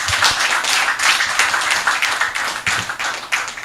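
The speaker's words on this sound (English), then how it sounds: "Let us give him another round of applause." Audience at a public PhD defense gives a round of applause: irregular hand claps in a fairly small room, moderately loud and close, sustained over a few seconds without talk.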